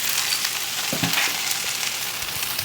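Chicken wings frying on a stovetop give a steady, close hiss and sizzle, with a few louder pops and stirring clatters partway through.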